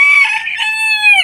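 A bantam rooster crows once, a loud, close, sustained call that holds steady and rises slightly near the end. No voices are heard.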